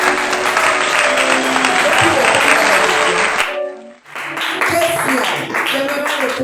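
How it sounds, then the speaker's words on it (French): A church congregation applauds loudly at a night prayer service, a dense sustained clapping with voices mixed in that drops away for a moment, then picks up again. "On acclame pour le Seigneur."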